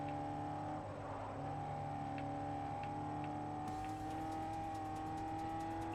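Race cars in Forza Motorsport 4 drone steadily at close range, a continuous engine roar with sustained pitch and a faint shift in tone partway through, and no talk over it.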